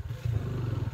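A motorcycle engine catches and runs with a rough, low chugging for a brief moment after stalling on a slippery off-road uphill track.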